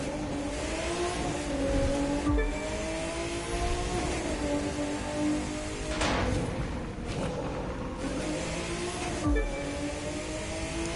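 A turbocharged Porsche 911 Carrera engine in The Crew 2 video game, a sustained drone with layered harmonic tones, steady and loud, with a few brief surges and bumps as it runs continuously.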